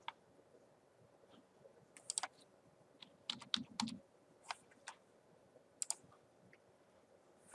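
Typing on a computer keyboard while entering a password, heard as scattered sharp key clicks in short irregular bursts, fairly close and quiet, with no talking.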